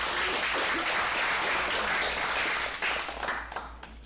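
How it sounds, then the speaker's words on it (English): Audience at a passive income seminar breaking into applause, a dense, even roar of clapping that thins out and tapers off near the end. "Let's give him a round of applause."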